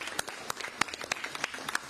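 A small audience at a council meeting claps in a quick burst of scattered, uneven hand claps.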